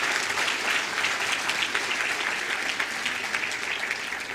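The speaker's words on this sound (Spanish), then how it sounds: "un aplauso fuerte para Eduardo" Conference audience applauding a speaker, a steady dense wash of many hands clapping at even loudness throughout, with no voices standing out.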